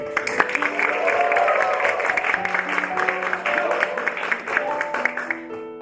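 A group of conscripted riot police claps after an award citation is read, sustained moderate applause with sustained tones over it, tapering toward the end.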